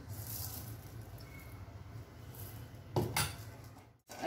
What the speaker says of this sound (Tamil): இப்போ புழுங்கல் அரிசி நம்ம வறுத்துக்க போகிறோம்.